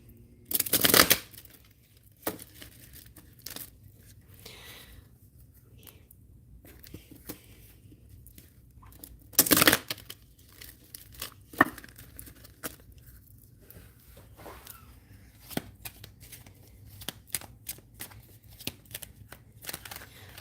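Playing cards are riffled and handled nearby, with two louder shuffling bursts and lighter scattered flicks and taps in between.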